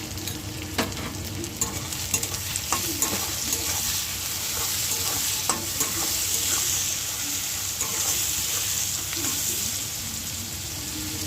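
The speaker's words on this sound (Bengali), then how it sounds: "টমেটো কুচি দিয়ে আমি নুন দিয়ে কিন্তু একটু নাড়াচাড়া করছি" Chopped tomatoes and salt being stirred in a frying pan over browned fried onions, with steady close sizzling and frequent scraping and clacking of the spoon against the pan throughout, no talking.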